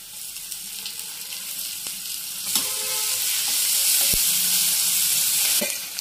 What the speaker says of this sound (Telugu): ఉల్లిపాయలు అనేవి గోల్డెన్ బ్రౌన్లోకి వచ్చిన తర్వాత మనం నూరు పెట్టుకున్న అల్లం వెల్లుల్లి పేస్ట్ని వేసుకుందాం